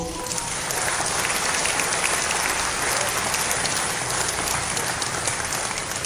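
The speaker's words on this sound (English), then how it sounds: "So let's give him a round of applause" A round of applause from an audience at a Malaysian political gathering, steady dense clapping after a brief quiet start, holding evenly for several seconds at moderate level.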